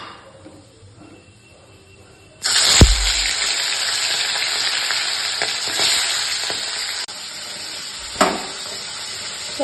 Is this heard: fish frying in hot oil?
yes